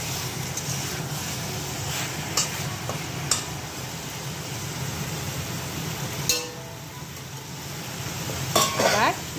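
Chicken cooks without added water in its own juices in a pan, giving a steady close sizzle with occasional scraping stirs and clinks of the spoon against the pot.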